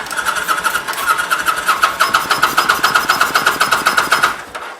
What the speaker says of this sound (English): just turn this thing over, spray a little bit of starter fluid from like this distance, and just see what happens